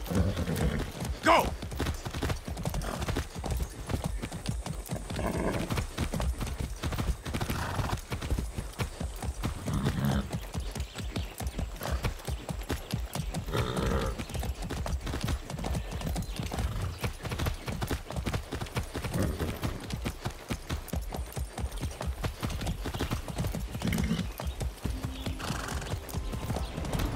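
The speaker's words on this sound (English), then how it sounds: "That's a good horse." Horse hooves gallop in steady rapid clip-clop in the video game Far Cry 6, continuous and close, with occasional whinnies and a voice speaking over the ride.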